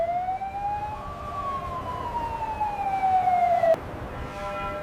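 An air raid siren in Israel wails, sweeping up and down in pitch, steady and prominent over a low background rumble, with a brief thump near the end.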